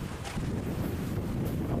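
A fishing boat rides big waves toward Lagi port in Binh Thuan in strong wind, heard as a constant roar of gusting wind across the mic mixed with rushing water.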